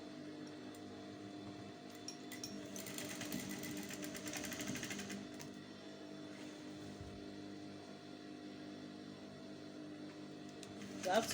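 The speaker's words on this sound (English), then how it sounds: "Then I'm going to be sewing the second side down." A sewing machine stitches the side seam of an off-shoulder dress. It gives a quiet, steady mechanical whir with a brief louder burst partway through, set in a calm indoor room.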